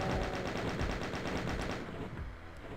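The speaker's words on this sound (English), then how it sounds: "I'll just get him with a chain gun for the rest of the time now." Chaingun in DOOM, firing a rapid, evenly spaced stream of shots that are loud and close, then stopping in the last second as the sound decays.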